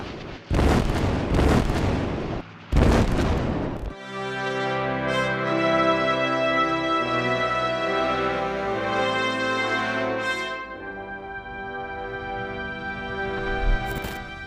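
Spanish artillery battalion shelling Soviet positions at Krasni Bor: two heavy booming blasts in the opening seconds, then a sustained tonal music-like drone that carries through the rest of the passage with a final short burst near the end.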